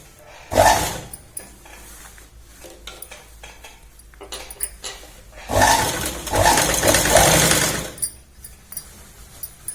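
Sewing machine stitching salwar fabric, two loud bursts of rapid mechanical stitching separated by quieter handling clatter and pauses, close up.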